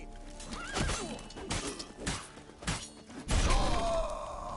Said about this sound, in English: I'm coming, Roach. Settle down